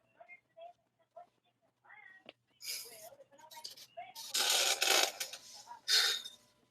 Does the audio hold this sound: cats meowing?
yes